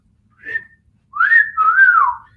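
A person whistles a short rising note, pauses, then a longer wavering melodic phrase, close and clear with no talking.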